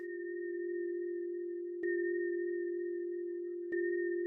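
Free Deja Vu VST delay effect set to full wet mix: a steady sustained tone with a higher partial, holding evenly alone, with two soft clicks where it briefly jumps in level and repeats.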